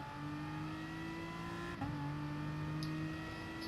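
Race car engines droning steadily at a race start in GT Sport, a sustained tonal engine hum that briefly dips and then resumes, fairly quiet and with no talk.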